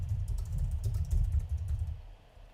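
Rapid computer keyboard typing, a close run of soft clicky keystrokes in an uneven rhythm that tapers off near the end, with no speech.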